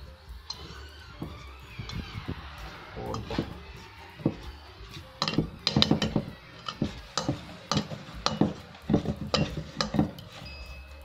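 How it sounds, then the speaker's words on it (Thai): Wire whisk stirring dango dough in a bowl as hot water is gradually added, giving repeated scraping, tapping clicks at an uneven pace, close and fairly quiet with someone talking between strokes. "จากนั้นเราก็ค่อยๆใส่ทยอยใส่น้ำร้อนนะครับผมนี่แล้วก็ใช้ตะกร้อลงคนนะครับ"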